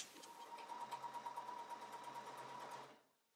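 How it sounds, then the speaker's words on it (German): A sewing machine runs a 3 mm stitch along the upper edge of a cork fabric frame bag, giving about three seconds of steady, even whirring up close before it stops. No voices are heard. "dann wird entlang der oberen Kante mit ungefähr 5 mm Abstand in einem 3 mm Stich die Tasche außenrum nochmal"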